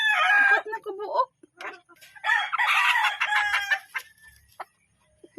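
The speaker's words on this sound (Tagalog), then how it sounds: "Mga hatan manok." Domestic chickens clucking and a rooster crowing nearby during feeding, busy bursts of fowl calls through the first half, then scattered clucks trailing off toward quiet.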